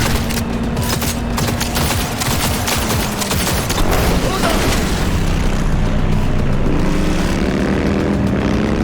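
Gunfire in the video game Cyberpunk 2077, loud dense fusillades of rapid shots over a droning engine-like hum and rumble, filling the whole stretch without pause.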